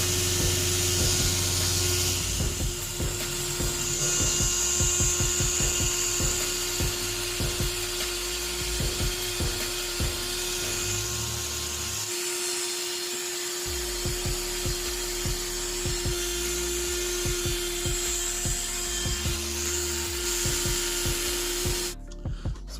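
A rotary tool fitted with a ball-shaped stone bit grinds dings and dents into cosplay armor, giving a steady close high-pitched whine that runs almost unbroken, with scraping contact noise along the way and a brief dip near the middle.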